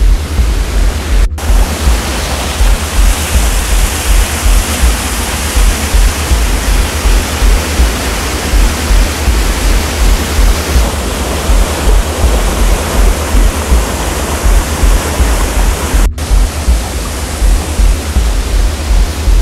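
Loud, steady roar of a mountain waterfall in spring snowmelt near the Pas du Roc, broadband rushing water filling the whole span with no voices, briefly cut by two short dropouts.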